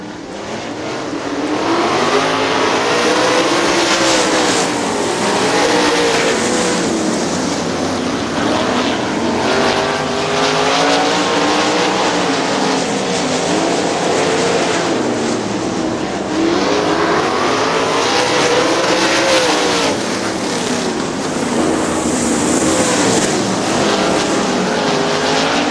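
Loud, continuous roar of 410 sprint cars at full speed on a racetrack in Quincy, Michigan, engines whining and rising and falling as the pack sweeps past.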